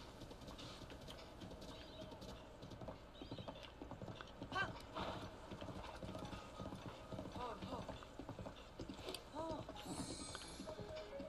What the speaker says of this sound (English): I've tamed a savage horse.